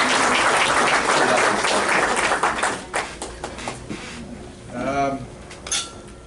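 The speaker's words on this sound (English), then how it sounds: "Everybody, a round of applause for Scott" Luncheon guests applaud a speaker among clinking dishes and cutlery, dense clapping that thins out after about three seconds, followed by scattered taps and a brief voice.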